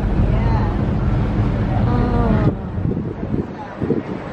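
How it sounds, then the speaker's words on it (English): A Sydney ferry moves across the harbour with a steady low engine rumble and buffeting wind that drops away partway through, while people talk nearby. "I love a ferry ride."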